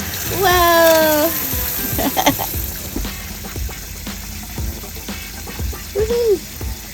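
Water runs through newly fitted plumbing during testing of a van build with a gray water tank, a steady close hiss and splash under excited voices and a shout.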